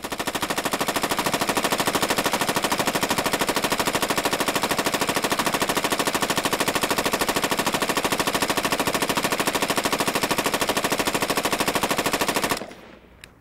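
An HK machine gun fires one uninterrupted burst of hundreds of rounds, a loud, dense, perfectly even mechanical rattle lasting about twelve seconds before stopping abruptly, with no voices.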